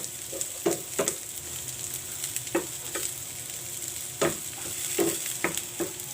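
Lechon paksiw stirred in a hot pan with garlic, a constant frying sizzle overlaid by a series of crisp utensil scrapes and taps, uneven in rhythm, close-up and without speech.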